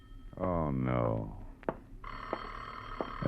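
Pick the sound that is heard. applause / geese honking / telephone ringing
telephone ringing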